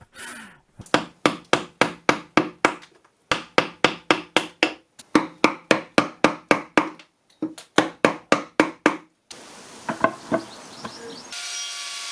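Old wood from a table and bed slats is struck with a chisel in steady bursts of sharp, close taps in quick rhythmic runs, breaking into scraping, grinding noise toward the end.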